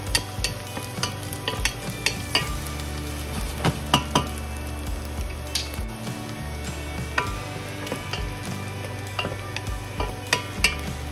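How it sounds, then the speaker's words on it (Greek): Onion frying in a pan and stirred often as it softens, a constant loud sizzle punctuated by regular clicks and scrapes of the spoon against the pan. "Τηγανίζουμε, ανακατεύοντας συχνά μέχρι να μαλακώσει λίγο το κρεμμύδι, περίπου 1 λεπτό."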